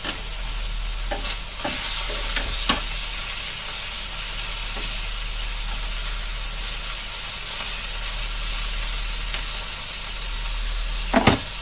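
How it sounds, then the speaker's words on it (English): Pork searing in a hot pan for a slow-cooked ragout, a steady broadband sizzle that holds evenly throughout, with a few sharp clicks and scrapes of tongs or a utensil against the pan. "with all this searing, what that's doing is it's caramelizing the meat"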